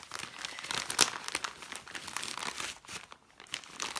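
Soft crinkling and crumpling of a damp wipe, a steady close-up rustle with one sharper crackle near the start, no voices.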